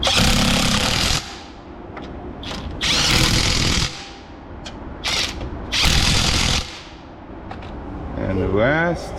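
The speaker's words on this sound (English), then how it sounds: "So once you have the thread going, you can safely use the impact." Impact wrench driving the wheel lug nuts on a Porsche Carrera 991, loud rattling bursts of hammering in several separate pulls, with short pauses between them.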